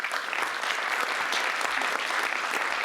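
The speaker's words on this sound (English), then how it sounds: "Let's get another round of applause." Audience applause at the close of a Q&A session following a technical conference talk, a dense, steady wash of many hands clapping that holds evenly for the full few seconds without pause.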